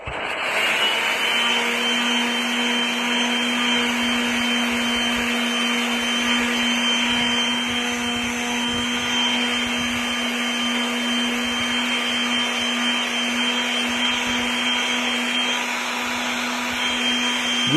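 A power sander or polisher works over a wall finished in Aurora topcoat, giving a steady, loud, unbroken whine with a constant hum that holds level and alone throughout.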